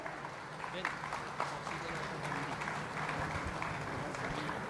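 Audience applause fills a hall at the 61st convention of the Deccan Sugar Technologists Association, a steady broad wash of clapping sustained for several seconds with a few sharper claps standing out.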